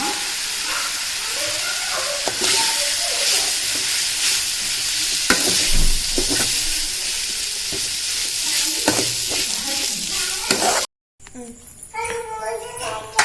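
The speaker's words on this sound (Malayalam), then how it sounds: "ചിക്കൻ ഇടുന്നുണ്ട്. നന്നായി ഇളക്കുക." Loud sizzling and hissing of chicken frying in a pan, with scraping stirs and a voice talking over it, then a brief cut to quieter sound.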